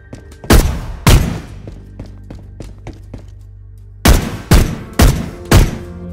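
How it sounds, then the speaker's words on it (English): Layered gunshot sound effects built for a game in Unreal with Wwise, six loud sharp reports in two groups, each with a booming tail, and quieter clicks and taps between them. "The gunshot is separated into multiple layers."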